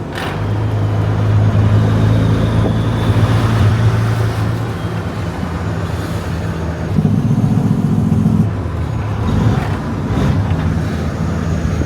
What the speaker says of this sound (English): That noise is an engine brake